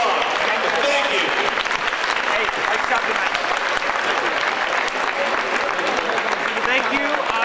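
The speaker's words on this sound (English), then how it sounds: "How about a big round of applause?" An audience applauds at a wrestling all-stars event during a service award presentation, with dense, sustained clapping filling the room and voices mixed in underneath.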